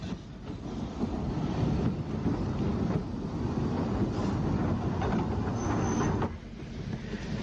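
Isle of Wight steam locomotive No. 29 Alverstone comes out of the single-bore tunnel under St Boniface Downs into Ventnor station, a steady loud rumble of rolling train noise mixed with wind buffeting, with no voices.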